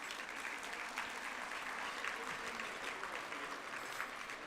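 An audience at an annual gratitude gala applauds its sponsors, a steady, sustained patter of many hands heard from a moderate distance, even in loudness throughout with no speech over it.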